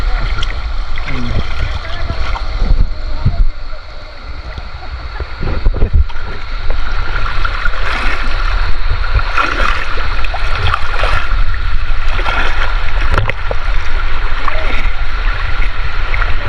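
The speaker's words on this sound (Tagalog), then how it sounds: "tingnan nyo mga karyador ang lakas ng agos ng tubig" The strong current of the Lubayat river rushes and splashes loudly and close, a continuous turbulent wash with occasional knocks, while people talk over it.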